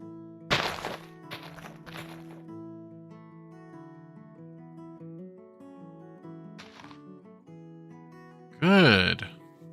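Machine-driven block breaking of a tree in Minecraft with the Create mod, heard as a few dull thunks and thumps over steady tonal game music, ending in a louder burst of crunching.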